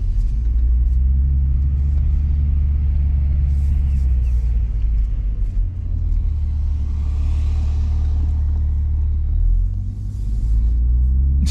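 A 2020 Toyota Supra driven in manual mode, its exhaust giving a deep, loud, continuous rumbling burble heard from inside the cabin, swelling and easing slightly with the throttle.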